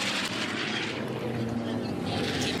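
A racing plane roars past during the Unlimited Gold race at the Reno Air Races, a loud, sustained engine drone with broadband rush that holds steady throughout, with a faint voice underneath.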